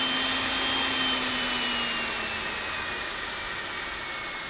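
Homemade variable-speed electric die grinder running with a continuous high whine and airy hiss, its pitch sagging gradually as it slows, steady and close with no talk.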